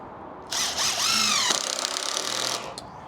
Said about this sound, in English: And again, just countersink that screw